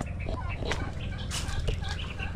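Chickens cluck softly around a brooding hen sitting on eggs in a farmyard coop, short scattered calls at close range over a steady background murmur.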